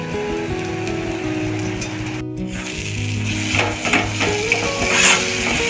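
Chopped chili frying in a pan with potato and onion crackles and sizzles steadily up close, with scraping stirs growing busier toward the end.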